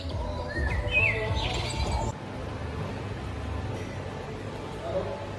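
Birds chirping as an added background bed: thin, high tweets scattered over a steady ambient wash, with a voice talking beneath and the birds dropping away partway through.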